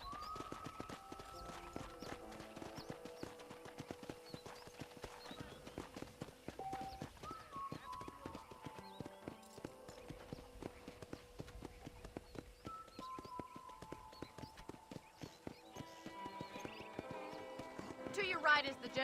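Horse hooves clip-clop at a steady riding pace in the Western video game Red Dead Redemption, moderately close, under a continuous music score and occasional voices.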